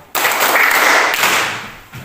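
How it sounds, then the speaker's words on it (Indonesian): Classroom students applaud a group that has just finished presenting its discussion, a burst of many hands clapping close by that starts abruptly and tapers off over about two seconds, with no talk over it. "Mari kita tepuk tangan untuk kelompok 4."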